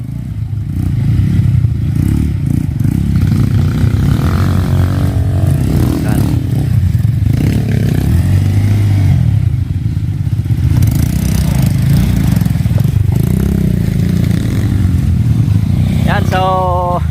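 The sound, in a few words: motorcycle engine on dirt trail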